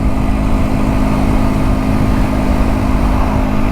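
Triumph Scrambler 400 X single-cylinder motorcycle engine while riding: a steady, buzzing drone with a constant pitch, mixed with rushing wind noise and heard up close, with no one speaking.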